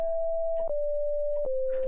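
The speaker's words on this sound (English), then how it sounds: "It's just a sine wave," A pure sine-wave tone from a software synth set to its simplest patch, holding steady with no vibrato and stepping down slightly in pitch twice, with soft clicks at each change.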